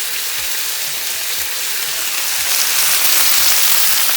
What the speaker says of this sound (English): Look at this. Beautiful sizzling.